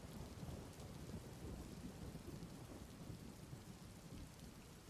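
Heavy rain pours steadily with deep rumbling thunder rolling underneath, a dense continuous storm ambience sustained at even loudness throughout with no voices.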